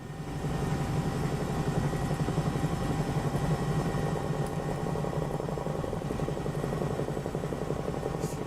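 A helicopter flies in Microsoft Flight Simulator 2024 with a steady, continuous rotor thrum and engine hum that stays at an even loudness throughout, with no voices over it.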